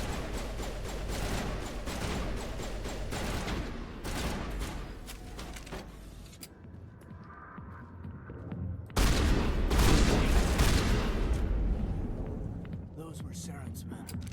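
Dense gunfire and grenade blasts crackle through a firefight in Mass Effect Legendary Edition, rapid bursts of shots, a short lull, then a heavier booming stretch. A voice talks over part of the shooting.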